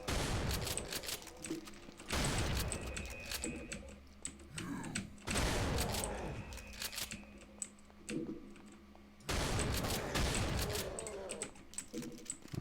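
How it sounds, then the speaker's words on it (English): Rapid automatic gunfire in a video game, played on a Linux machine, comes in loud dense bursts separated by brief pauses, with game sounds underneath and no talk. "Look at this guy, his rapid fire."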